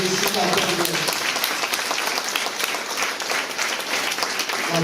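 An audience at a mayor's New Year address in Alquines breaks into sustained, dense applause, steady and close, with speech rising over it at first.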